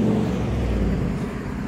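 Steady traffic rumble of cars driving past at night, heard from a bicycle on a town street, a continuous low drone with no clear individual pass-bys.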